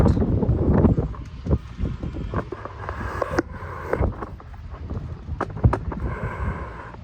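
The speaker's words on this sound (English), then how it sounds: "really windy" Gusty wind buffets the microphone with a low, rumbling roar on a rowing outing, broken by scattered knocks and thumps.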